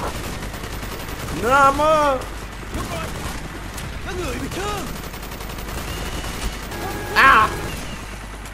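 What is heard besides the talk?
gunfire and artillery strike in Call of Duty Black Ops video game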